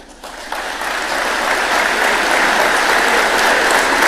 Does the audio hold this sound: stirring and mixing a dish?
no